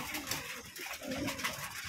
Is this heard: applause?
no